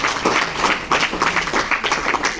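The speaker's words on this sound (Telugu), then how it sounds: "క్లాప్స్ కొట్టండి." Students at a college event in Kusumanchi applaud together, a dense sustained burst of many hands clapping in a room for a couple of seconds.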